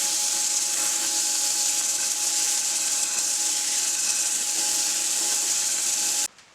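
Continuous abrasive hiss of 120-grit sandpaper against a spinning zebrano bowl on a lathe, steady and close, with a faint motor hum underneath before it stops abruptly.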